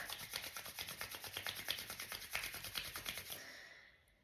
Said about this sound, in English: Rubbing your hands together and feeling the warmth.